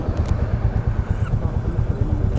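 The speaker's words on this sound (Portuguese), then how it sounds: "agora eu vou começar aqui a fazer o teste na rodovia com a Classic 350" A Royal Enfield Classic 350 motorcycle rides along a highway, its single-cylinder engine thumping in a steady loud rhythmic pulse close to the listener, with wind noise.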